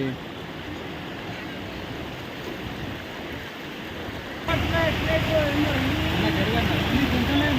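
Loud, steady rushing floodwater from the Munneru river in Khammam roars throughout, growing heavier and closer partway through, like a swollen river surging past.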